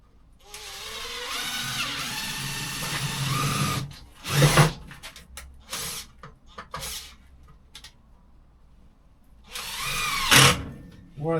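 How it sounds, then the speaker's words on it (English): A power drill drives screws into recycled pallet wood cladding in a home garage workshop. Several separate bursts of whirring drill noise come close and loud, with quiet handling noises and pauses in between. "So I'll put some screws in this now."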